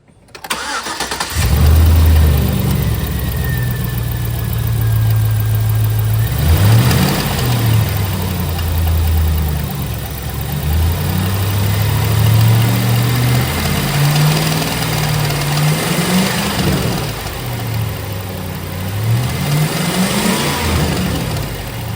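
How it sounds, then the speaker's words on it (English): A 2006 Chevrolet Silverado with a rattle from the engine cranks and fires up, then settles into a steady, close idle with slight revs rising and falling for about twenty seconds. No one talks over it. "So I'm going to fire it up and see if we can hear it on camera."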